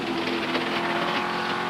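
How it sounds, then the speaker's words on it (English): Wyn Percy's racing car at Oulton Park in the 1987 British Touring Car Championship, with a failing transmission, a steady, fairly close engine drone with a rough, uneven tone running throughout. "Wyn Percy's car sounding very sick. That sounds like a transmission problem."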